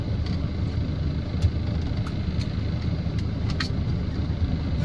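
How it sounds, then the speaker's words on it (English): A Land Rover Defender 90 TDCi station wagon with about 145,000 miles sits idling in neutral, giving a steady low diesel rumble with faint clicks on top and no speech. "Let it idle in neutral for a minute, see if we can hear any clutch rattle"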